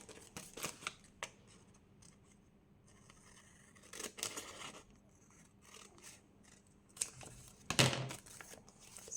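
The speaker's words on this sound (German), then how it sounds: "Schneiden, Schere." Scissors snip through paper during junk journal crafting, several separate crisp cuts with crinkling and rustling between them, close and fairly quiet with no talk over them.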